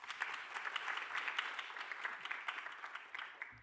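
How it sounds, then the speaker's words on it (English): Steady crowd applause at a conference event, dense, fairly even clapping throughout, moderately distant and not very loud. "A round of applause, please."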